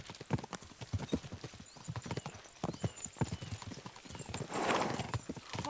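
Horses gallop in Kingdom Come: Deliverance II, a steady rapid clip-clop of hooves close up, with a brief whinny near the end.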